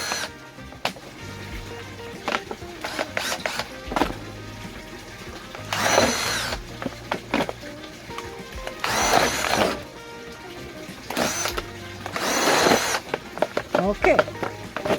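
A power tool drills holes around a plastic container holding a Meyer lemon tree, producing several short, whirring bursts a few seconds apart over a quieter background.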